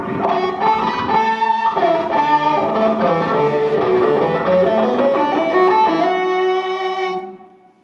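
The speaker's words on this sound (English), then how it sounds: "And I've got this Fox Rocks Octron" Electric guitar played through a Foxrox Octron octave pedal, a sustained run of thick, harmonically rich notes with a doubled, distorted edge, loud and continuous for about seven seconds before fading out.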